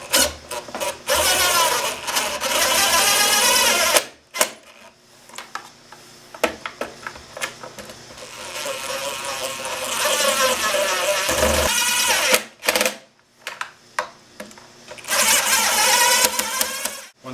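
A driver with a long extension and a number 3 Phillips bit seats screws joining a Dometic toilet pedestal to its bowl, in repeated whirring bursts separated by short pauses.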